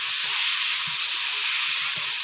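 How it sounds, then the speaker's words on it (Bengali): Spices crackle in hot oil while tempering fried fruit, a steady close hiss of sizzling that runs without a break. "আম্মু সোমভাড়া দিচ্ছে।"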